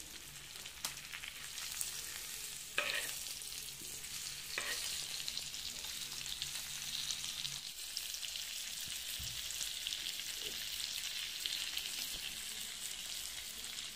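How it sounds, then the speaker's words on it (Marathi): Bangda mackerel fish frying in a pan, a steady dense sizzle throughout with a few soft knocks as the fish is turned, no voices. "आता आपण मासे पलटी करून घेणार आहोत।"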